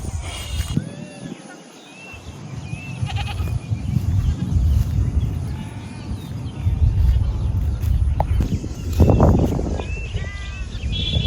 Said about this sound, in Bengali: ওই যে সেই হলো ছাগল